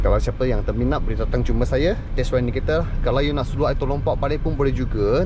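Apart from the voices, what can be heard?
No distinct noise like a dog, phone or traffic.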